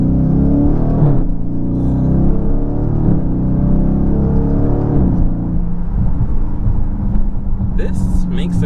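A Dodge Charger Scat Pack Widebody with a 6.4L V8 rumbles with a deep, loud exhaust note that swells and settles, engine drone continuous throughout with a voice talking over it.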